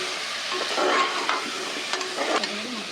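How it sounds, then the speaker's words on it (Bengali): Spices are stirred together in a cooking pan for a chicken and potato curry, giving a hissing sizzle with a few scraping strokes close by. "এবার এই মশলাগুলোকে একটু ভালো করে মিক্স করতে হবে"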